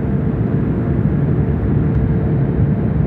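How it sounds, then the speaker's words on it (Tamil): Steady, loud broadband engine drone inside an airplane cabin on a domestic flight from Rome to Pisa, a constant roar with no talking. "ஸோ இப்போ டொமஸ்டிக் ஃப்ளைட்டில் போயிட்டுருக்கோம்."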